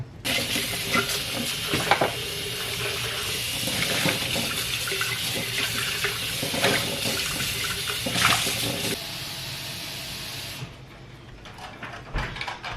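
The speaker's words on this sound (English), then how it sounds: "I'm going to just wash with some hot water and some soap." Glass one-litre canning jars are washed at a sink in hot soapy water, with running tap water, sloshing and clinking of glass continuing for several seconds before the flow stops and only quieter handling remains.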